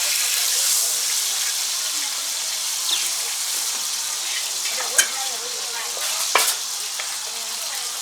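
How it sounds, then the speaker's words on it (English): Onion fries in a pot of hot vegetable oil with a continuous bright sizzle. Occasional utensil clicks and light stirring rise over it now and then, close to the mic with no voices. "Allow the onion to fry."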